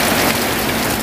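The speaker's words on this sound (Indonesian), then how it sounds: "Deras sekali hujannya." A downpour drums hard and continuously on nearby surfaces, a thick steady roar of rain that stays loud from start to finish without any talking.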